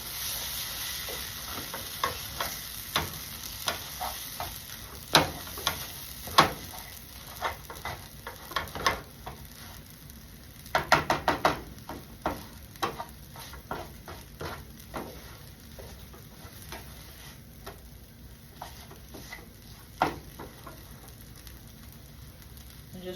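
Scrambled eggs sizzling in a hot pan, with a steady crackling fry broken by frequent sharp scrapes and taps of a utensil stirring, brief faint voices here and there.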